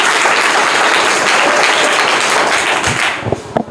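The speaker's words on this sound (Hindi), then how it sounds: "जोरदार ताली इनके लिए" Loud, dense applause from a group at a general-knowledge quiz competition, rewarding a correct answer; steady clapping that thins and breaks into a few scattered claps near the end.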